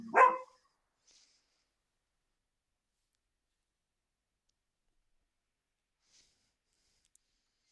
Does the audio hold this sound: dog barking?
yes